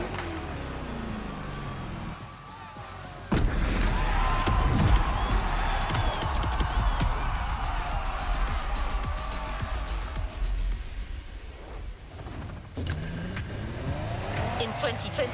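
Lamborghini Countach driven in the racing video game The Crew Motorfest: engine revs and roars with tire squeal and skidding bursts, loud and close after a quieter opening, continuing with rising and falling passes.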